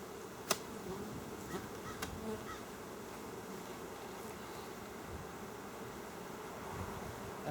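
Honey bees swarm around an open hive during a honey harvest, a dense continuous buzz close by, broken by a few sharp clicks and light handling noises.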